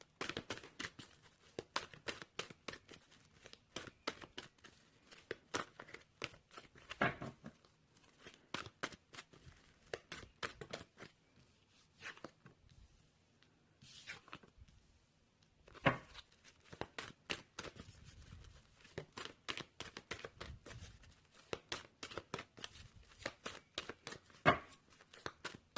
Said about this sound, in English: I was just going to say these are huge cards to shuffle on.